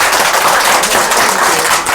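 Loud applause from a group of people at a comedy skit about teaching small children, continuous dense clapping that stays strong and even throughout, up close.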